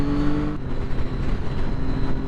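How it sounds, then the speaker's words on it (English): A 2012 Triumph Daytona 675 triple-cylinder engine, heard as a loud, continuous motor drone with a thin, high steady whine riding on top, and a pitched tone that drops away after the first half-second. "This interesting whine that this engine has. It's very unique. Very unique to Triumph."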